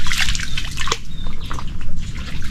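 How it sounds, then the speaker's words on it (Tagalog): Water trickling and splashing in, a close, continuous burbling with drips and sloshes and no voices over it. "Ayan na po yung tubig oh."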